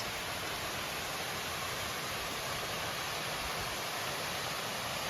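Maasilla waterfall in the Kolli hills, mountain water tumbling down in a steady, dense roar that fills the scene evenly and continuously, with no voices over it.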